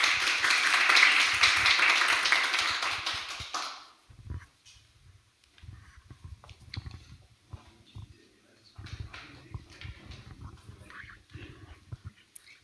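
Warm audience applause at a business associates' meeting as panelists are called to the front fills the first few seconds, then cuts off into quiet room shuffling and faint movement.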